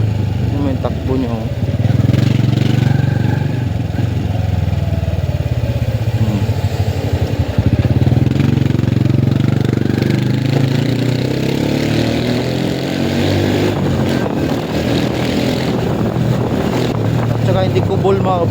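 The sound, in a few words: motorcycle engine running, petrol motorcycle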